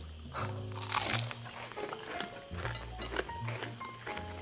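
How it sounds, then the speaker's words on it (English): Close, crisp crunching as someone bites into a crispy tofu and vegetable snack dipped in rice vinegar and soy sauce, a sharp bite followed by several quieter chewing crunches. "I'm just going to bite it first."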